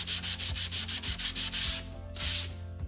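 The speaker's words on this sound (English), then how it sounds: "I'm just gonna sand until it's even with the rest of the surface." Hand sanding a vintage wooden coffee table with high-grit sandpaper, close rhythmic back-and-forth rasping strokes in quick succession, loud and alone.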